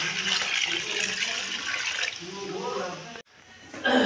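Water being poured into a pan of fried mung dal cooking with fish heads, a continuous splashing pour lasting a few seconds, then a brief pause and a fresh splash.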